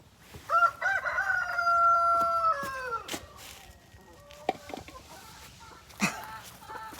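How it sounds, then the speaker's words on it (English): Silkie chickens crowing nearby, with one long rooster crow followed by shorter clucks and scattered clicks, moderately loud over a quiet farmyard background. "That's them silkies doing all that crowing."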